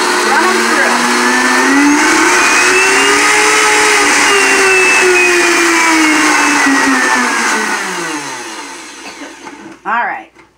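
A kitchen blender grinding oats into oat flour, a loud sustained whirring roar whose pitch rises and then slowly sags before it winds down and cuts off.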